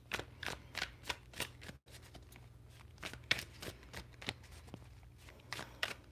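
Tarot cards are shuffled and pulled in quick, repeated papery riffles and flicks, close and fairly soft, with a brief pause partway through.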